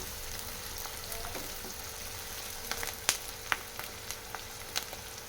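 Cashews and almonds fry in a pan with oil for biryani-style paneer curry, giving a soft, steady sizzle with a few sharp crackles and pops near the end, no voices.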